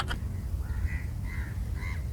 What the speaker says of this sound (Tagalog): Dami pang uwak dito